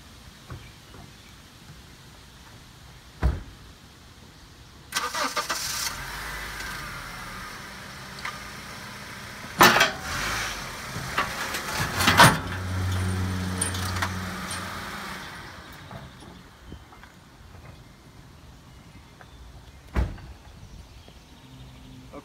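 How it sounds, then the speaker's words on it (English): A car is driven up onto a Master Tow dolly trailer: a low engine drone and rolling, creaking clunks build through the middle stretch, framed by isolated sharp knocks and metallic clanks, with no talking. "I'm going to load the car."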